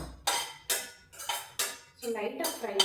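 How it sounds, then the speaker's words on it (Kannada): Grated coconut being fried in a pan is stirred with a metal spatula, making five or six sharp rhythmic scraping clinks close by, while any sizzle is not evident. "ಈಗ ಇದನ್ನ ಚೆನ್ನಾಗಿ ಫ್ರೈ ಮಾಡ್ಕೊಬೇಕು ಕೊಬ್ಬರಿನ."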